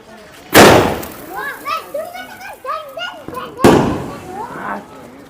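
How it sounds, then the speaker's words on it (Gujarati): Diwali firecrackers bursting in the sky, with two loud sharp bangs, one near the start and another about three seconds later, among lively children's voices and chatter. "સરસ મજાનો ફટાક્યો ફોડ્યો છે આકાશમાં"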